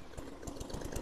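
A lawn mower engine just pull-started after priming, running in a steady, close chugging rhythm of even low pulses with no voices.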